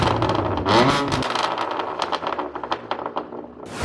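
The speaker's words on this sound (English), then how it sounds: "we're gonna give you guys a few revs so you can hear it" A straight-piped BMW M4 F82 revs hard several times, the exhaust roaring and crackling in sharp bursts close by, with no talking.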